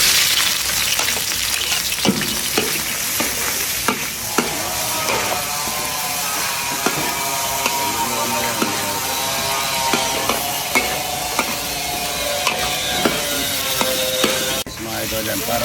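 Ginger and plenty of onion sizzle in hot oil in a pan, a continuous loud close frying hiss with occasional stirring knocks throughout.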